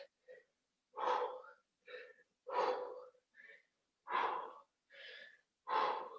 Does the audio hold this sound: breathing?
yes